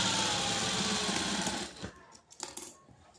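Sewing machine stitching a blouse seam along a marked line, a loud continuous buzzing run that slows and stops after about two seconds, followed by a few light clicks.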